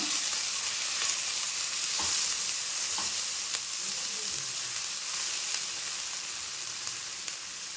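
Onion and green chilies sautéing with popped mustard seeds in a hot pan for lemon rice, a loud continuous sizzle with a few light clicks of a spatula stirring against the pan.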